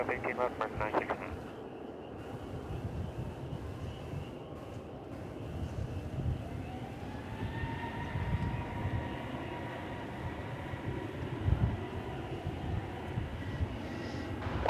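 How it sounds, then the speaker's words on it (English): An Airbus A321neo takes off at DFW Airport, a distant rising jet roar building and sustaining over faint wind noise, with a voice talking over parts of it. "Off to Los Angeles goes this Airbus A321 Neo."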